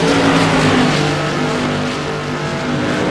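Tour Modified race cars roaring around the oval at Southern National Motorsports Park, a loud sustained engine drone with revving pitch, close and continuous throughout.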